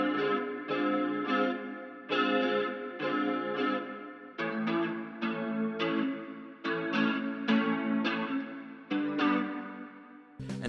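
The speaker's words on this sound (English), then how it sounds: "I used Guitar Rig 6 with the Twang Reverb amp, put some chorus with ensemble and flanger chorus" Electric guitar played through a Guitar Rig 6 Twang Reverb amp with ensemble chorus and flanger, strumming a steady run of chords with shimmering, swirling modulation and a reverb tail, loud and alone.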